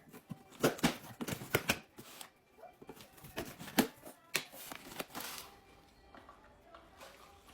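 Butcher knife cutting and tearing into a cardboard meal kit box, a close run of scraping, slicing and crackling bursts with irregular rhythm, tapering into quieter rustling.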